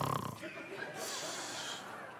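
A man imitates loud snoring, a short rasping snort followed by a drawn-out breathy rumble, heard close up during a sermon.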